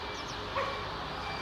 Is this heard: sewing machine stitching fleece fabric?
no